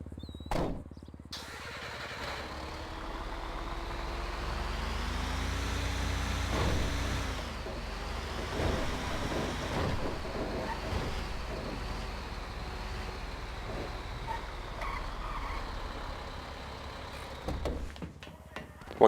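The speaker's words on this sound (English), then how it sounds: "I'm now free to drive my tow truck around as I please." A steady tow truck engine drones throughout in Grand Theft Auto V, with shifting revs and occasional clunks and hisses, loud and close.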